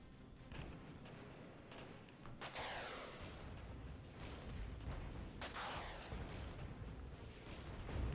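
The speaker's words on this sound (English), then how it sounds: "Man, those mortars don't do a lot of damage, but they really keep people's heads down." Mortar rounds firing and impacting in a Cold War combat video game, with sharp booms near 2.5 and 5.5 seconds over a steady rumble of battlefield noise and machinery, no talking.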